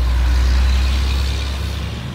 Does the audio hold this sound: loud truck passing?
yes